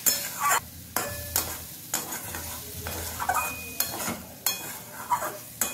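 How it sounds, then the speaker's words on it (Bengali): Spice masala with cabbage for a Bankura-style cabbage jhal is stirred and fried in a pan, with a steady close sizzle broken by repeated scraping strokes of a spatula against the metal, and no talking. "সমস্ত কিছু দেওয়ার পরে একবার ভালোভাবে নাড়াচাড়া করে এই মশলাটাকে খুব ভালো করে কষিয়ে নিতে হবে।"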